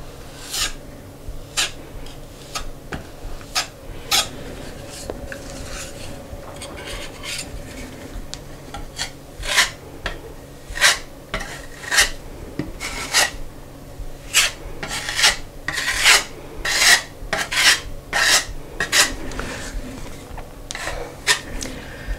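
A putty knife spreads and scrapes a second coat of spackle across a wall, making rhythmic rasping strokes that come in quick bursts, close and fairly loud, with short gaps between passes.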